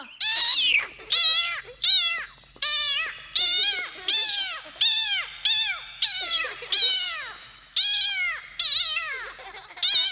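A voice imitates a cat, giving about a dozen short meows in a steady rhythm, close and fairly loud.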